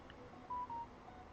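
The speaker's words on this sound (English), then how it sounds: "My phone went ring-a-ding-a-ding-ding." A phone gives two short, steady electronic beeps in quick succession, clear and close over a faint background hiss, with no talking.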